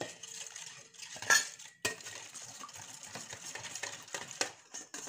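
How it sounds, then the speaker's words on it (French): Melted, cooled butter being mixed into doughnut batter in a bowl, with a utensil clinking and scraping against the bowl in irregular close strokes, including a couple of sharper knocks. "Nous ajoutons notre beurre fondu, froid. Nous mélangeons."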